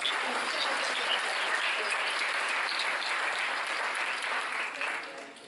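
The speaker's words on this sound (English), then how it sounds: "Round of applause." Steady applause from an audience at a talk or show, when a volunteer joins the presenter, dense and even throughout and tapering slightly at the end.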